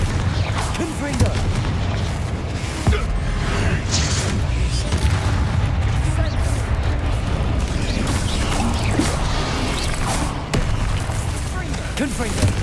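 Confringo blasting spells explode in Hogwarts Legacy combat: repeated booming blasts and crashes over a dense, continuous battle din, with voices talking throughout.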